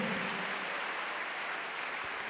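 A church congregation applauds, a dense, steady wash of clapping that fills the whole moment without a break.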